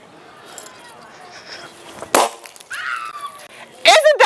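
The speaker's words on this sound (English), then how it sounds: "So we took a ball pit ball, it's kind of bouncy, and we made it implode" A bouncy ball-pit ball frozen in liquid nitrogen implodes with a sharp crack, followed by crackling and a second loud burst of breaking, close and fairly loud over low background murmur at a museum demonstration.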